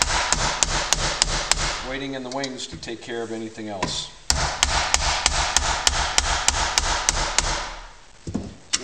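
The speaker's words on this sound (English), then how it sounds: "We have our little ball peen hammer" A small ball peen hammer strikes sheet metal while forming a profiled rib for a Bearhawk aircraft, delivering rapid, evenly spaced sharp metallic blows with a brief pause where someone talks.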